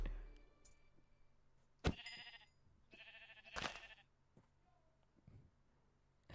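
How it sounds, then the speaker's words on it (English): Sheep bleating in the Minecraft video game, several short nasal bleats spaced out over a quiet game background, with a few soft clicks between them. "There's a pink sheep here."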